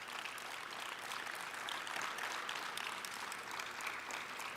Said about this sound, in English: I think she deserves a good round of applause.